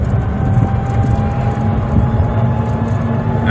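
A golf cart with a LiFePo4 battery driving along, giving a steady electric motor whine over continuous wind and road rumble, close and fairly loud without pause.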